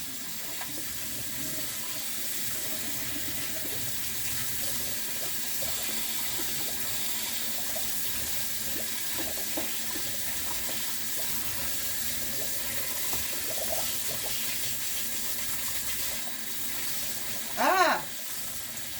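Quinoa being rinsed under a running kitchen tap: a steady, continuous rush of flowing water with faint clinks and rustles throughout and a brief sharper sound near the end.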